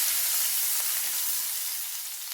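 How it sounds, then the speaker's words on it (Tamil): Shallots frying in hot oil with a dried red chili and curry leaves for a moringa leaf thokku, giving a dense, even sizzle that hisses on without pause and eases off slightly toward the end. "தாளிப்புக்காக ஒரே ஒரு காஞ்ச மிளகா, கருவேப்பிலை போட்டுக்கலாம். வெங்காயம் வதங்கட்டும்."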